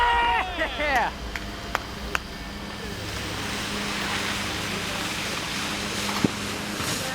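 A wakeboarder carves across the water at a cable park, giving a steady rushing hiss of spray and chop after a few sharp knocks, with a voice shouting briefly at the start.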